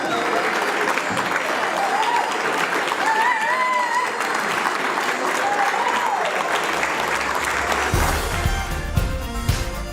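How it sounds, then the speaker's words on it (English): Wedding guests at Meldrum House Hotel in Aberdeen cheer and applaud the newlyweds, a loud sustained burst of clapping with whoops and voices mixed in, ending in a clatter near the close. "Please all be upstanding and have a nice big cheer for Mr. and Mrs. Smart."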